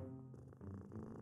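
A cat purrs in the puzzle video game A Little to the Left, a soft, continuous low rumble that plays briefly and alone.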